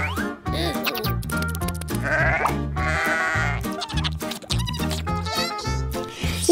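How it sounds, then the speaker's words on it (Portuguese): Goats bleat repeatedly and loudly at a farm during feeding time, while they are being fed apples. The calls come close together in an almost continuous run of overlapping bleats with no clear pauses. "As cabras gostam de maçãs."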